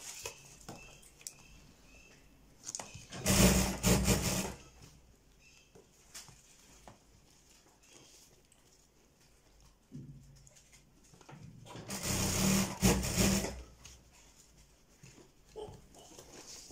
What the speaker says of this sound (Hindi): हम 1 इंच के हिसाब से इसकी सिलाई लगा लेते हैं,